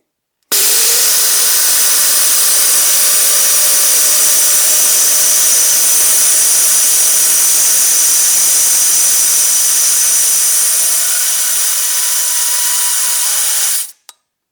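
A loud, steady hiss of air rushing out of a tire valve, dropping from 32 to 14 PSI, continuous and unbroken for about thirteen seconds before cutting off abruptly.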